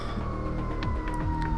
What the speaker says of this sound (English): I apologize for the sirens outside.